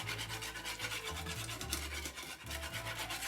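A wire whisk scrapes quickly through gravy in a small skillet during a one-pot cube steak dish, making rapid, rhythmic scratchy strokes up close over a low background hum.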